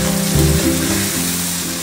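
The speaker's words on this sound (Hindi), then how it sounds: "ये दही मैंने इसमें डाल दिया, अभी पहले हम इसको थोड़ा भून लेंगे" Chicken pulao with added yogurt fries in a pot, a loud, dense sizzle filling the short stretch over a low hum, with no talking.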